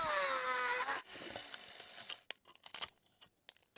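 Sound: cutting out a small round metal piece for a bike build

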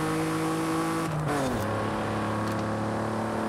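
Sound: Cadillac limo accelerating in video game Forza Horizon 5

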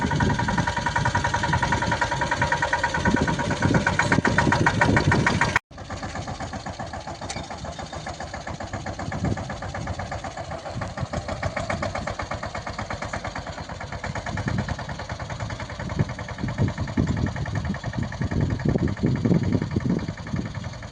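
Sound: mini tractor engine running

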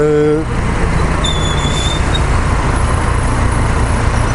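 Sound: cars passing on road

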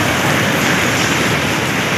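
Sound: heavy rain falling in the hills of McLeodganj

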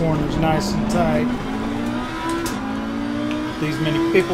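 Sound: race cars in the video game Assetto Corsa Competizione

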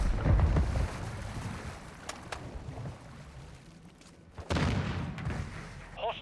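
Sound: grenade explosion in Call of Duty Modern Warfare II video game

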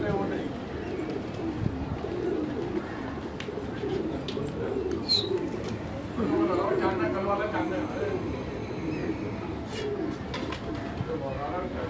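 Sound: pigeons cooing at a pigeon loft

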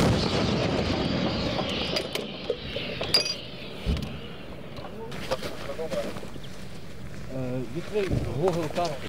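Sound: artillery gun firing near Bakhmut

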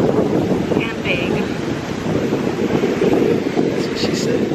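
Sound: big ocean waves and wind at beach

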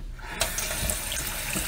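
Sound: water running from kitchen sink tap

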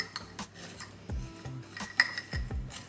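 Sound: stirring overnight oats in a bowl

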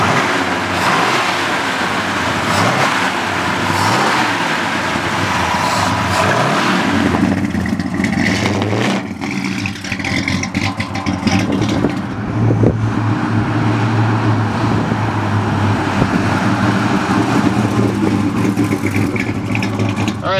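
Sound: 1969 Plymouth Road Runner muscle car driving

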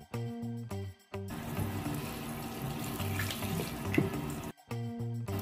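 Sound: tap water running on low stream while preparing chicken

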